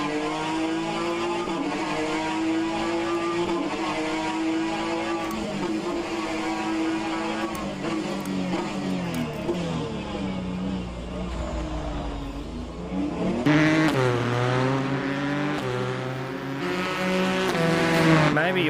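Alfa Romeo race car in a racing sim at the Rouen circuit, its engine droning steadily at high revs near redline with rising and falling pitch through gear changes, loud and continuous, with people talking intermittently underneath.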